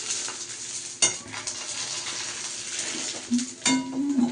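Puchka shells frying in hot oil give a steady broadband sizzle, broken by a few sharp metal clinks from a utensil against the pan.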